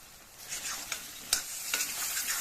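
A spoon stirs tomato rice in a pan, soft scraping strokes and gentle sizzling, a handful of distinct swishes close by over a quiet background.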